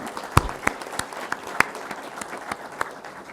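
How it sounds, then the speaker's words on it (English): Light, scattered clapping from an audience at a university farewell for professors, a handful of sharp individual claps ringing out over a quiet room. "giving a huge round of applause to all the professors and MIT"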